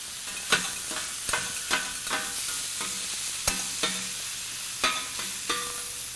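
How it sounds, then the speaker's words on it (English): Metal spatula chopping down on sizzling beef patties on a griddle, sharp clanks at an irregular pace over a steady frying hiss. "Notice we're chopping the patties, not the cheese."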